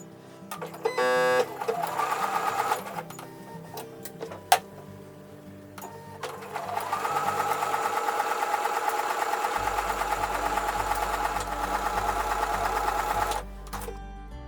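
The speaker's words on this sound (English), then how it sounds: "now I'm going to sew those pieces together with a 1/4 inch seam" A sewing machine runs in steady bursts, its needle stitching a quarter-inch seam joining quilt block pieces with a fast mechanical rattle, pausing briefly between runs before a long continuous stretch.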